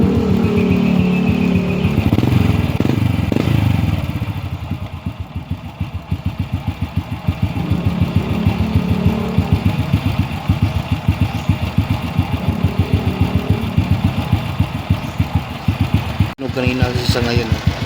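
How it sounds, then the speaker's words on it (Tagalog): Motorcycle engine idling steadily after repair, no longer stalling; a close, loud, even low putter runs throughout, with someone talking over it early on. "Ngayon parang lumalaban na yung makina niya, hindi na siya namamatay."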